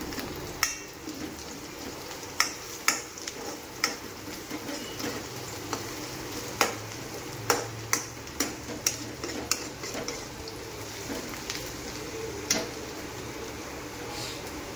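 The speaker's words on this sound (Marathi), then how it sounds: "पहिले कांदा चांगला गरम करून घेऊ आपण." Onions heat in oil in a pan while chicken is cooked in a truck driver's roadside kitchen, with a low steady sizzle broken by sharp, scattered clicks of a spoon striking the metal pan.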